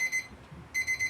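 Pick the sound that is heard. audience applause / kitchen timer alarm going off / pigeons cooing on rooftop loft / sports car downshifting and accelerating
kitchen timer alarm going off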